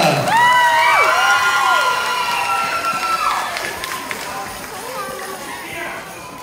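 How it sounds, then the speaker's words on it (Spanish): A festival crowd cheers and shouts, with children's high voices and whoops dominating, loud at first and gradually easing, with chatter mixed in. "Un aplauso fuerte para el que se oiga"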